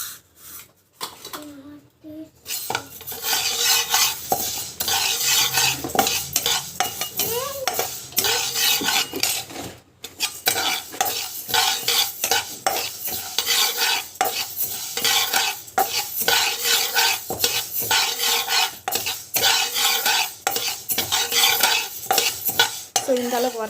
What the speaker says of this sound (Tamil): வெந்தயம் வந்து வறுத்துக்கிறேன்